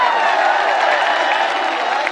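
Audience at a Hindi poetry recital breaks into applause and cheering, a dense, loud, sustained crowd wash with scattered whoops throughout.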